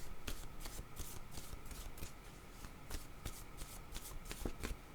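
A deck of cards shuffled steadily over a constant background hiss, with rapid riffling flutters and repeated sharp snaps, close and continuous.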